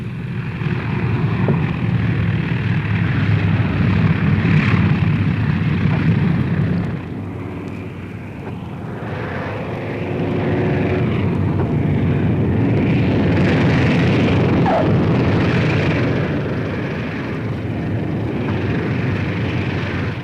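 WW2 B-17 Flying Fortress bombers come down one after another at an airfield in Russia, their propeller engines a loud rumbling drone that swells, eases around the middle, then builds again with overlapping roars.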